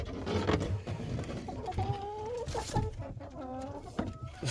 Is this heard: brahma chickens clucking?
yes